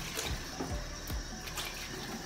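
Hot water runs from a bathroom tap in a steady close hiss, with a few low gurgling splashes as it hits the basin and no talking.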